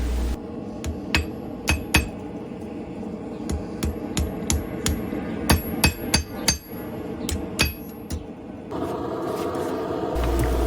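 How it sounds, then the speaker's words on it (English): Repeated sharp metallic strikes from the cross peen of a hammer on a thin flat-stock metal spoon ring out in an uneven rhythm, with a steady background hum; no talking. "To work out the spoon, I use the backside, the cross peen of the hammer."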